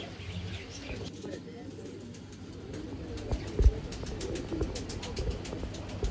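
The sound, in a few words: Sabja male tournament pigeon cooing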